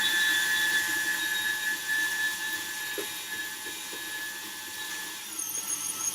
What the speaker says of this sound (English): you're using a handheld electric mixer